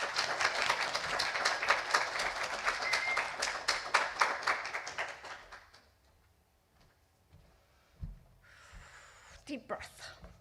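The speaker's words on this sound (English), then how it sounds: "more importantly, our applause as we welcome Mary Sue Purcell" An audience applauds to welcome a speaker at a Mother's Day church service, dense clapping for about five seconds before fading into quiet rustles and a few knocks.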